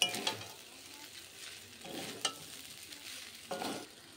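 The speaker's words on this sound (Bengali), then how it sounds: "গোলমরিচ গুঁড়িটা আমি দিয়ে দিলাম নামানোর আগে, দিয়ে ভালো করে একটু মিশিয়ে নিচ্ছি।" A spoon stirs chicken pasta seasoned with black pepper in a pan. Soft scraping strokes recur every second or two over a faint, quiet sizzle, close by and with no talk.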